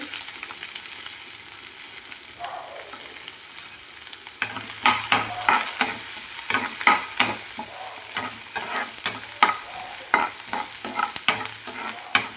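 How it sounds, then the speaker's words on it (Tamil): Onion and green chilies sauté in a pan with a continuous soft sizzle, then a run of repeated sharp scraping and clacking stir strokes takes over, loud and close. "பச்சை மிளகாய், வெங்காயத்தையும் வந்து அது கூடவே சேர்த்து நல்லா வதக்கிக்கலாம்."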